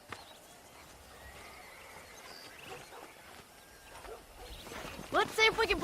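Horses in the Red Dead Redemption video game, a faint, distant ambience that builds to a louder neigh or whinny near the end, with soft hoof sounds under quiet background noise.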